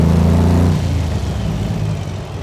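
A Meyers Manx dune buggy fitted with a radial airplane engine roars loudly nearby, a deep rumbling drone that swells at first and then settles into a steady, slightly fading growl.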